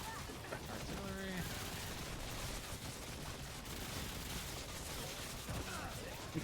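Artillery fire in a bug-fighting video game lands as dull repeated booms, faint and buried in a dense wash of battle noise, with players talking over it.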